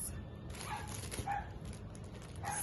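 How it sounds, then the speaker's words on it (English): A dog barks a few times somewhere in the background of a quiet indoor room, the barks faint and spaced apart. "Excuse the barking dog."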